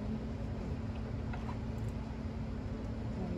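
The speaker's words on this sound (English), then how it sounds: "It's just the heater." A basement heater runs with a steady low hum and broadband rushing noise, quiet and continuous throughout with no speech.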